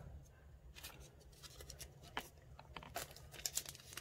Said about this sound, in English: I'm gonna need to tape it down